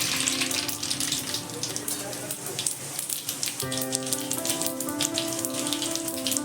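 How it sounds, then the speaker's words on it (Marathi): Spices tempering in hot oil in a wok for dal, a steady dense crackle and sizzle running the whole time, close and loud with no pause. "एका कढईमध्ये तेल टाकू आणि वरणाला फोडणी देऊ"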